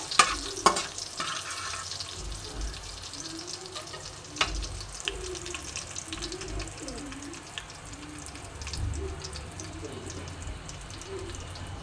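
Green chili and asafoetida tempering stirred in hot oil for a radish-greens vegetarian dish, a steady low sizzle with occasional spatula scrapes and clinks, birds cooing faintly in the background.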